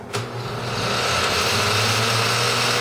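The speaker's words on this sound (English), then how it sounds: "And you're going to blend this as much as possible." A blender running steadily as it purees chiles with water and salt, a continuous loud motor whir with a sharp start at the beginning and no pauses.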